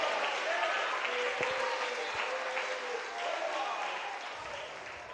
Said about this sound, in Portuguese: Aplaude a Jesus de Nazaré.